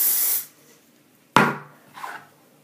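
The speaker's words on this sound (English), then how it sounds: "flip her hair up and spray all over the sides and the front" A short close burst of hairspray hisses onto hair, followed after a pause by a soft knock and a faint rustle.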